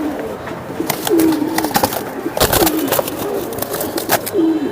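Giribaz pigeons coo repeatedly at close range, soft throaty rolling calls recurring in a steady rhythm over a busy loft background with occasional rustles and faint talk.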